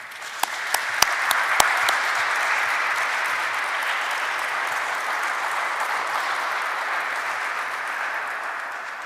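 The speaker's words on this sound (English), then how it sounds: "I think the panelists deserve a round of applause." A large audience at a White House conference on American history applauds the panelists, starting with a few sharp claps that swell into steady, dense clapping sustained to the end.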